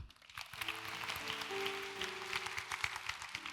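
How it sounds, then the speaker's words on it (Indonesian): A church congregation claps steadily, a dense wash of applause with some sustained tones underneath, moderately loud and continuous. "Berikan tepuk tangan untuk Tuhan."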